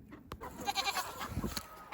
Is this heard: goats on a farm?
yes